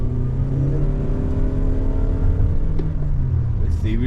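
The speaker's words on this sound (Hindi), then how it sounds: "अभी इंजन की आवाज़ आई अभी" A steady engine drones and rumbles throughout in a Toyota Innova Hycross ZX with CVT gearbox, a smooth low hum from inside the cabin above 40 km/h, with a slight rise near the end.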